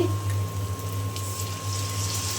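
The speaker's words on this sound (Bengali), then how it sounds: "এখন আমি দিয়ে দেব অল্প পরিমাণে একটু পানি" A small splash of water poured into sizzling spices in a pan gives a brief close gurgling rush over the ongoing frying hiss.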